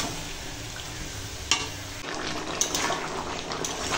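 Chicken neck and giblet pieces coated in yogurt are sautéed in a pan and throw off plenty of liquid, making a steady wet sizzle and bubbling with a few sharp clinks of stirring.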